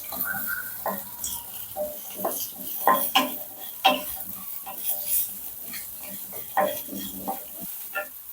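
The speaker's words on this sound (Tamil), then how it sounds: "வெங்காயம் வதங்கிடுச்சு" Onions sautéing in a pan with roasted pepper, cumin and fennel, giving soft sizzling with irregular scraping stirs and light clinks of a utensil against the pan, fairly close and moderately quiet.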